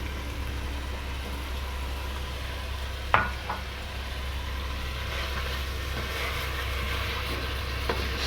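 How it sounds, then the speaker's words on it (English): Chopped tomatoes stirred into chicken curry frying in a pan for Malaysian chicken curry, a steady low sizzle with a sharp scrape of the spoon against the pan midway and another light clink near the end. "I'm going to continue mixing, throw in the chopped tomatoes."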